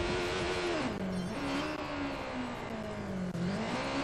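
A motorbike on off-road tyres revs hard up a dirt hill in Watch Dogs 2, a loud, close engine drone whose pitch dips and rises as the throttle shifts.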